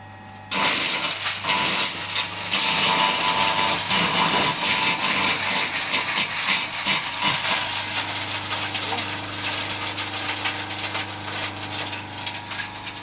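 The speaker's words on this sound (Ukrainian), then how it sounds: "обрізую гілля від малини і будемо зараз її дробити" Cut raspberry branches are fed into a garden shredder, which runs loudly and continuously up close, its motor roar mixed with crackling and chopping as the canes break up, with no clear talking.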